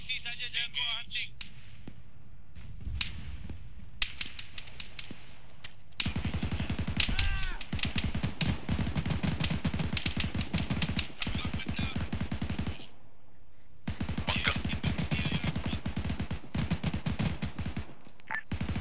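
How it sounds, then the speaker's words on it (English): Repeated bursts of automatic gunfire and single shots in the Arma video game, sharp and loud, some rapid and sustained, with brief pauses and a voice speaking over parts of it. "Shots coming from the north."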